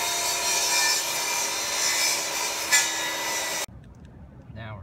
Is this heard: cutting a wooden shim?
yes